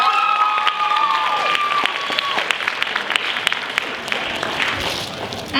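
Applause and cheering from a live audience welcoming a student speaker, a dense steady wash of clapping that holds at full strength throughout, with crowd voices mixed in.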